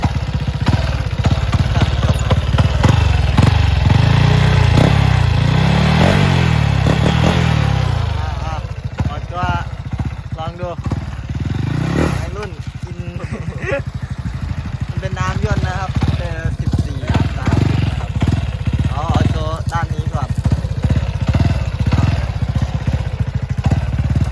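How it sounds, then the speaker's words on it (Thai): A 110cc motorcycle fitted with a slash-cut exhaust starts and is revved hard, its loud, close engine rising and falling in repeated blips before settling into a choppy idle, with voices talking over it. "มาสตาร์ท มันเป็นท่อผ่าหมกนะครับ อันนี้ยังไม่เก็บสภาพ แล้วก็ไปใส่โลแดงเก็บสภาพแล้ว เบิ้ลโชว์"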